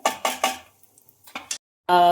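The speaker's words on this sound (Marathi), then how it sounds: "आता मी परत हे दुसऱ्या भांड्यामध्ये काढते" Roasted cashews clatter as they are tipped from one pot into another, three quick scraping bursts, a short pause, then two more, ending in a brief louder metallic clink.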